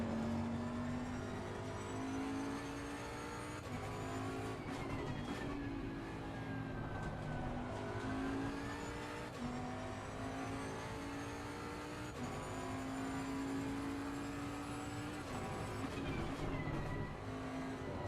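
A race car engine in Assetto Corsa Competizione screams continuously, its pitch climbing through the gears and dropping on shifts and braking, loud and close for the whole stretch with no voices.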